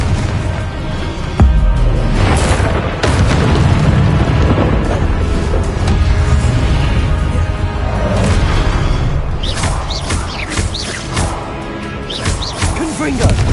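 Confringo spell blasts in the Hogwarts Legacy video game: a sudden deep boom near two seconds swells into a rumbling roar. More bursts and crackles sound later, under combat music and voices.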